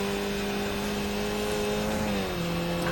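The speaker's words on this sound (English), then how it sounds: "It's hard to really get a gauge of how good they sound from these engine noises" Racing car engine from a sim racing video game, a steady loud drone holding pitch before dropping slightly as the revs fall, with no talk over it.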